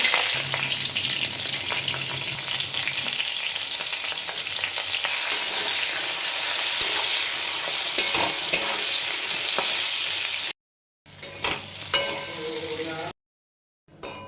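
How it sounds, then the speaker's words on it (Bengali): Pointed gourd fries in hot oil with bay leaf and whole garam masala, giving a loud, steady close-up sizzle with frequent stirring scrapes, then cutting out in two short silent gaps near the end. "এবার এতে তেজপাতা করে আর গোটা গরম মশলা দিয়ে দেবো পটলগুলো একটু ভেজে নিতে হবে ভালো করে নুন হলুদ দিয়ে"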